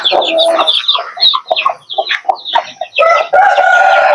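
Several chickens cluck and squawk loudly and close by in a continuous, overlapping chorus, with one brief crow-like call mixed in.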